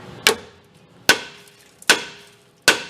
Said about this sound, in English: go hit it with a hammer